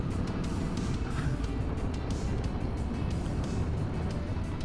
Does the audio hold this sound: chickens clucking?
no